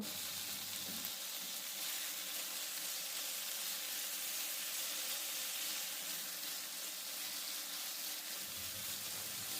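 Beef with onion, garlic and dried chili frying in mustard oil, a steady hissing sizzle that fills the whole stretch at close range with no voices.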